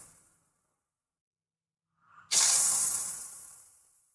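Short sustained burst of spray paint from an aerosol can coating miniature models such as Orks and Imperial Knights, a loud hissing spray starting suddenly after near silence and trailing off slowly.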